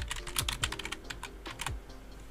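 Folder name typed on a computer keyboard, a quick run of crisp clicking keystrokes in uneven bursts, close and fairly quiet, with no voice.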